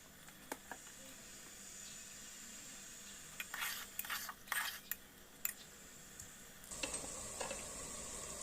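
Washed dal and rice with vegetables stir-fried in a pot for moong dal khichdi, a faint steady sizzle broken by a few scattered scrapes and clinks of a spoon, then a louder hiss near the end.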